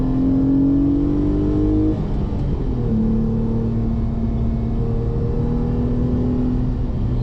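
Renault Clio V6 Phase 1 engine revving hard from inside the car while driving, a loud sustained roar that climbs in pitch, drops through a gear change, then pulls up again.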